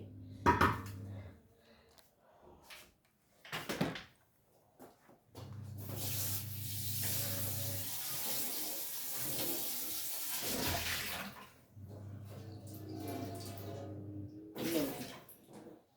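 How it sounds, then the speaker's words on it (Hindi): A large metal parat, a kneading plate, is washed under a running tap, with bursts of splashing water separated by pauses and a clank of metal near the start and end. "अब परात धो के रखूँगी"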